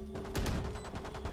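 Rapid gunfire from a competitive tactical shooter match, several sharp shots bunched together in quick succession over steady game background noise, close and fairly loud with no talk.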